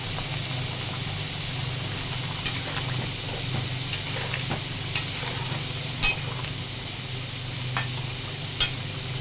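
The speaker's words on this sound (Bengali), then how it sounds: "আর এদিকে একটু শাক ভাজা হচ্ছে, লাল শাক ভাজা।" Red amaranth greens fry in a pan with a steady, close sizzle, broken every second or so by sharp scraping clinks of a spatula stirring against the metal, and a low hum underneath.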